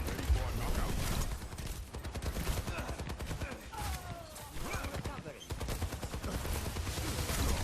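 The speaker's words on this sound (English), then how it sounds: "She's like Soldier in where she has a machine gun" Sojourn's machine gun and railgun in an Overwatch match: rapid, dense volleys of game gunfire run almost continuously over a busy layer of other combat effects.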